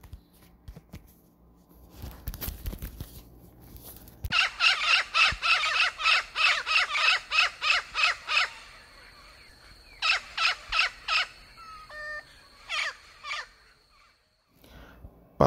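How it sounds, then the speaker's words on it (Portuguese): Calls of a true parrot, a Brazilian parrot species: harsh, rapid squawking bursts in repeated series with short pauses between, loud and close, preceded by some rustling. "Papagaio verdadeiro."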